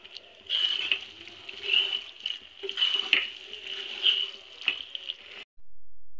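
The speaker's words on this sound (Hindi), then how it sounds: "इसमें हम एक गिलास पानी डाल देंगे और इसे अच्छी तरीके से हम मिला देंगे" A glass of water goes into a pan of frying gravy for restaurant-style matar paneer, giving an uneven splashing hiss with bursts of sizzle before cutting off abruptly near the end.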